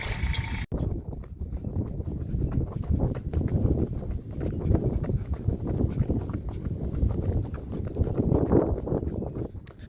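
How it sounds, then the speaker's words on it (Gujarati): Steady clip-clop of a ridden horse's hooves at a walking pace, close by and continuous, with rhythmic thuds and a faint background rustle throughout. "ઘણા દિવસો પછી આજે હોર્સ રાઇડિંગ કરી રહ્યા છીએ"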